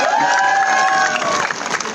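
Political rally crowd in Ambala cheering and clapping loudly, a rising whistle-like shout over dense applause that thins toward the end.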